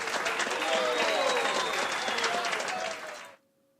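A stock applause sound effect played back in editing software: a dense, steady wash of crowd clapping and cheering that runs loud for about three seconds, then cuts off abruptly into near silence with a faint lingering tone.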